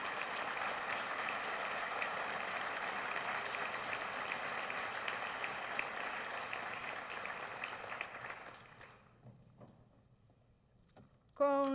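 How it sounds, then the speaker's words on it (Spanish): A solemn session marking the 75th anniversary of the University of Costa Rica, where the audience applauds the students with the best overall grade averages. The sustained, dense clapping fades out after about eight seconds, then a voice begins at the end. "Un fuerte aplauso para las y los mejores promedios generales."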